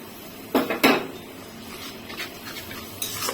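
Metal spoon scraping and knocking in a pan while spices, turmeric and salt-soured yogurt are stirred and sautéed for a Bengali home dish: two sharp clatters close together, then softer scattered scrapes and a final knock.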